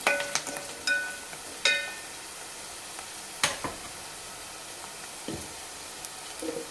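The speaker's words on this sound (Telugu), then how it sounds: "మనకు ఆనియన్స్ పచ్చిమిర్చి అయితే ఇంకా ఆల్మోస్ట్ వేయిపోయినట్టే" Onions and green chillies frying in a pan for a dhaba-style okra curry, a soft steady sizzle broken by a few sharp stirring scrapes and clinks, close and fairly quiet.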